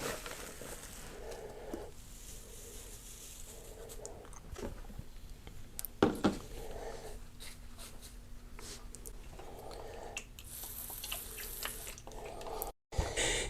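Water splashes and trickles into a Vermihut worm composting bin, quiet and close, with intermittent pouring and dripping bursts and occasional rustling of bedding, no one talking.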